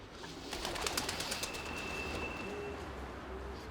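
Pigeons coo and flutter in a crowded flock, a continuous close mix of soft cooing calls and wing clatter over a steady outdoor hum.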